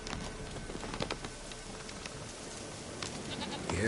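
Goat bleats in The Witcher 3 rise briefly out of steady rain-like ambient noise, a few short wavering calls at moderate distance with no talking.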